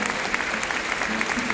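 Audience at a gathering breaking into sustained applause, a dense, even, fairly loud clapping that fills the space from start to finish.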